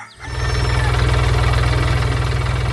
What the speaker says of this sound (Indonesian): Lihatlah itu, traktor hijau bermain di tengah sawah hijau, menggembur tanah dengan roda kuning yang ceria.